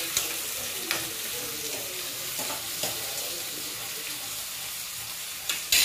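Tomato pieces sizzle in a hot pan, a continuous crackling fry punctuated by a few sharp clicks of a utensil against the pan.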